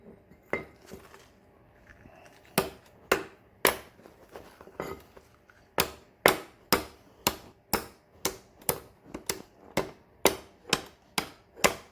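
Sharp metallic hammer blows on stuck rear brake parts of a 2013 Chrysler Town and Country ring out in a steady, evenly spaced series, loud and close, with a few irregular knocks at the start.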